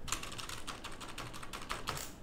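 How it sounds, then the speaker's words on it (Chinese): Quick, light keystrokes from a USB keyboard plugged into an iPhone 15 through a USB-C hub, close and fairly quiet, in an irregular burst of clicks. "我用键盘打"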